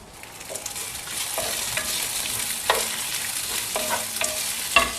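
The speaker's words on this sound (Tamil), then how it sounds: "எல்லாம் பக்குவமா வதக்கணுங்க. தீயாம ஒரு மாதிரி கலர் மாறுற வரைக்கும், அந்த பச்சை வாசனை போற வரைக்கும் வதக்கிக்கணும்." Sliced onions and mint leaves sautéing in an open pan, a steady soft sizzle with occasional light scrapes and stirring clicks as they are turned, close and alone without any voices.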